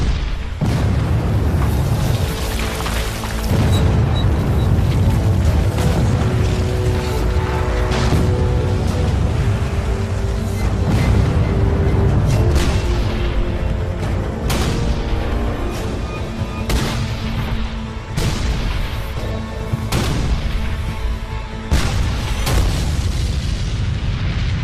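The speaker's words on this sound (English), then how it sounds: "It's the largest artillery barrage ever in the Western Hemisphere." A massive artillery barrage at the Battle of Gettysburg, loud booming cannon blasts overlapping into a continuous rumbling roar with repeated sharp reports throughout.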